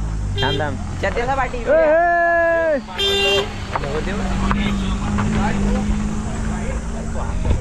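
A car pulls away during a village cricket league event, sounding a few loud, sustained horn toots over the engine and background noise.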